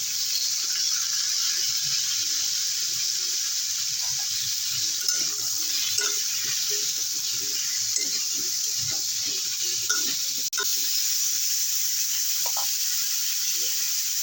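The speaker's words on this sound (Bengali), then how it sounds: "খুব বেশি করবো না বন্ধুরা তাহলে একদম হালকা করে কষে নিলাম" Vegetables sautéing with salt and turmeric in a pan for a vegetarian cabbage dish, a steady soft sizzle throughout with scattered light stirring scrapes and utensil taps, close and even, no talking.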